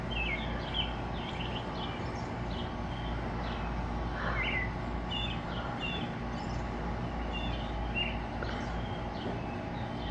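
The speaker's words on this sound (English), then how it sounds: "There's some cool birds doing their thing." Birds in a neighbor's yard give scattered short chirps and calls, faint and at some distance, over a steady outdoor background hiss for about ten seconds.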